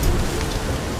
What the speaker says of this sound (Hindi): लगता है ये बारिश आज रुकने वाली नहीं है और इतनी तेज बारिश में कोई ग्राहक भी नहीं आएगा।